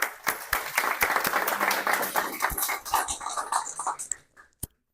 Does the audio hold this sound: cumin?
no